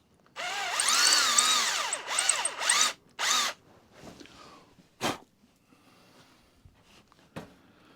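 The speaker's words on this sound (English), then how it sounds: "Transfer that over to this drill." A power drill bores into a part on a Royal Enfield bobber motorcycle build, whining in one long rising-and-falling run, then in shorter close bursts with pauses between them.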